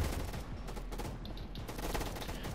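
Rapid automatic gunfire in the Roblox game Gunfight Arena, a dense, continuous burst of shots with sharp repeated cracks, fairly faint overall.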